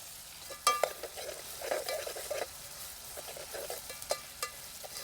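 Onions sauté in a pan while being stirred, a gentle, fairly quiet sizzle broken by repeated spoon scrapes and light clinks, with no speech.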